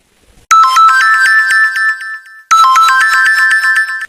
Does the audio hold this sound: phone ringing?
yes